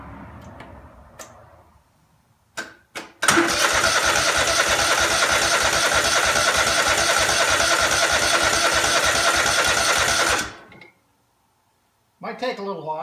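A Craftsman DGT 6000 garden tractor's engine cranks with a few short bursts, then catches and runs loudly and steadily for about seven seconds before shutting off; faint background sounds and a brief noise follow.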